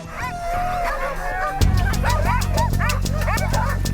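Sled dogs in the Arctic wilderness bark repeatedly and loudly close by, a steady chorus of overlapping yaps and barks over a rumbling outdoor background.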